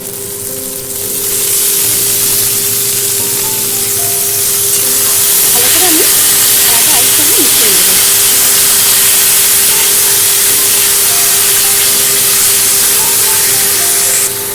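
Chhana sizzles loudly after going into a pan of fried onion, ginger and garlic, a steady bright hiss of frying that builds and holds, with faint stirring sounds under it.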